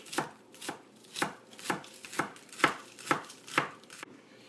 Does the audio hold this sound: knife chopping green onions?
yes